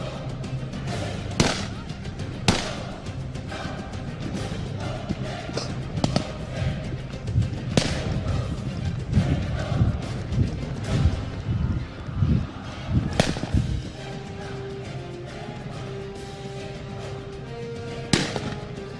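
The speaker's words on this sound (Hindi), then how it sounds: "ये पुलिस की जानिब से फायर और दूसरी जानिब मुल्जमान की जानिब से भी फायर हो रहे हैं।" Pistol shots crack back and forth in a police shootout with suspects, repeated sharp bangs spread irregularly over a noisy outdoor background with indistinct voices.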